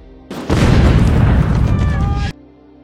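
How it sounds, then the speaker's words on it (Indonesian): German artillery fire striking a town in a World War film scene: a loud, sustained blast with rumbling low end and debris roar lasting about two seconds, then cutting off sharply. "Ternyata tentara Jerman melepaskan tembakan artileri yang mengarah ke kota."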